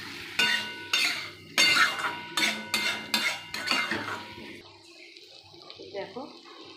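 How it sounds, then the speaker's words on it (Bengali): Boiled yam and potatoes are stirred and sautéed in a pan, with a run of sharp metal spoon scrapes and clinks in quick rhythm before things settle into a softer simmering sizzle. "ভালো করে এগুলোকে কষিয়ে নিই"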